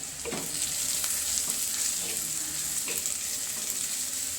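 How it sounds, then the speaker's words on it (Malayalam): Onions fry with turmeric and chili powder, giving a steady close sizzle with a few soft stirring scrapes. No talking is heard. "ഇപ്പോൾ ഈ ഉള്ളി ഒന്ന് മുരിഞ്ഞോട്ടെ"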